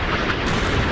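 Naval gunfire from warships in the naval combat game Sea Power, a dense, continuous rumbling barrage of booms and blasts filling the whole second, loud and steady with no talk over it.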